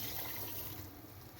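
Water being poured into a falsa berry juice mixture with sugar, a steady continuous splashing pour lasting a moment, close and fairly quiet.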